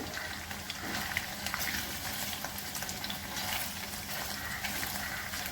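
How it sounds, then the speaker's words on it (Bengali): Cumin and garam masala sizzle in hot oil while paneer masala is cooked. The frying hiss is steady and dense, with light crackling throughout and no voices. "জিরে গরম মশলা ফোড়ন করলাম।"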